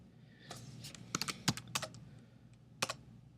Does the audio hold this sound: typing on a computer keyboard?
yes